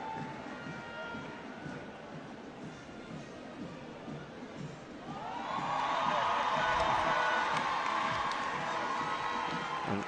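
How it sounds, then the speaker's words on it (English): A parade crowd at a 2022 Independence Day event breaks into applause and cheering for a police canine unit display with dog handlers. The sound is quiet at first, then swells halfway through into sustained clapping that carries on to the end. "And the public loves this display, as you can hear from the applause."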